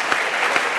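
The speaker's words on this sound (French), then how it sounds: "Cher parlementaire, il faut l'applaudir encore." Audience applause at a stand-up comedy show, a brief dense burst of clapping, loud and close, with no talking over it.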